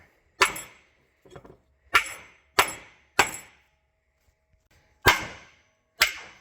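Sharp metallic hammer blows drive a chisel or punch against tractor clutch parts during a 1086 clutch repair, six or seven separate strikes spaced irregularly with short quiet gaps between them; close and fairly crisp, no talking.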